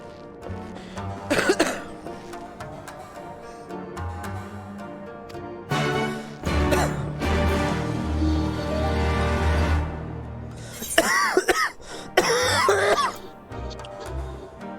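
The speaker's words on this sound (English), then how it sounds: "I still have a pretty bad damn cough." Several hoarse coughs and throat-clearing bursts from a nearby person with a lingering bad cough, coming in short clusters separated by pauses, loud and close over a quiet room.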